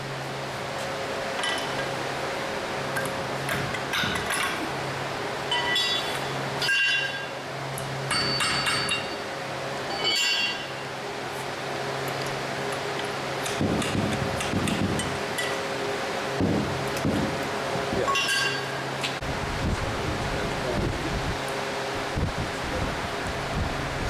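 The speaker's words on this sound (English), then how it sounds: "connecting rod is being fitted." Metal clanks, taps and scrapes come from fitting a connecting rod during steam engine assembly, irregular knocks over a steady background hum in a workshop, with faint voices at times.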